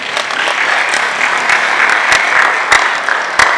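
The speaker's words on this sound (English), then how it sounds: "I think you should give us a round of applause" An audience at a 2017 digital payments expo applauds. Dense, steady clapping fills the room at a fairly loud level, with a few sharper individual claps standing out near the end.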